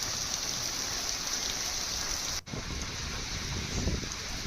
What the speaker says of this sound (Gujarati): ચોમાસાની સિઝનનો આ પ્રથમ વરસાદ